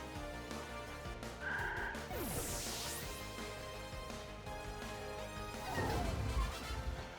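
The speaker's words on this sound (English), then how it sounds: "You can use metal claw though" Metal Claw attack effect from a Pokémon game: a bright metallic crash and slashing sweep over steady game music, followed by a heavier impact near the end.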